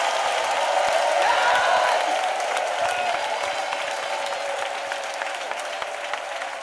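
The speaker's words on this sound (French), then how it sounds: "Let us clap for Jesus." A church congregation claps together for Jesus during a worship service, a dense, steady wash of applause that holds loud throughout and tapers slightly toward the end, with a few faint whoops mixed in.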